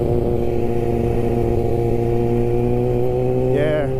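A Kawasaki Ninja 636 sport bike cruises at steady speed, its engine holding a loud, even drone with constant tone and a slight rise near the end, recorded up close from the rider's position.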